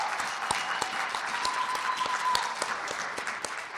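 Steady applause from an audience at a lecture event honoring the organizer, a dense even wash of clapping with a few sharper claps standing out, sustained throughout without voices.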